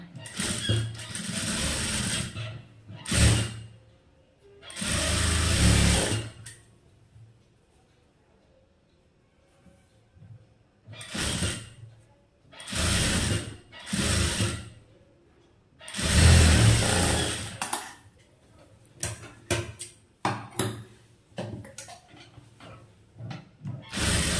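A tailor's sewing machine stitching main cloth over a strip, running in several separate bursts of a few seconds each, loud and close, with quiet pauses between runs.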